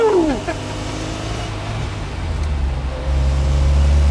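A Lada car drives along the road, its engine and tire rumble steady and loud from inside the cabin, with a gear change early and the drone deepening as it accelerates.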